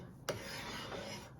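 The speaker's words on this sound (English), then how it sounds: "Working the belly of this bamboo with my scraper and really kind of having a rough go of it." Hand scraper dragged across the belly of a bamboo piece, a steady close rasping rub with a sharper catch at the start of the stroke, heard alone.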